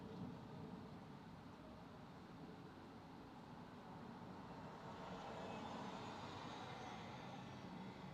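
British Airways airliner on approach to land at London Heathrow, a faint, distant, steady engine roar that swells slightly toward the end, heard alone.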